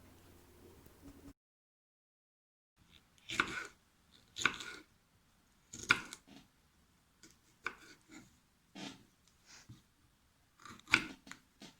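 Knife chopping through jalapeño peppers on a cutting board during pickle preparation, about eight sharp distinct cuts at irregular intervals after a quiet pause, close and fairly loud with no talking.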